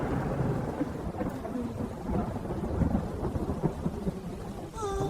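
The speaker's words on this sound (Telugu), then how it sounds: "ఒకరోజు భారీగా వర్షం పడింది." A cartoon thunderstorm: a deep, rolling rumble of thunder over constant heavy rain, with a few short tonal beeps at the very end.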